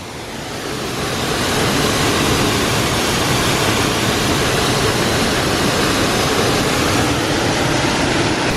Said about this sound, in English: officially made it to the second waterfall of the day. This is Beiului, guys.